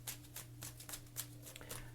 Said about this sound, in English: This is our last shuffle.